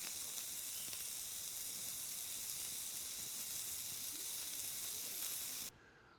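Food sizzling on a small portable camping barbecue, a steady crackling hiss that stays even throughout before cutting off abruptly near the end.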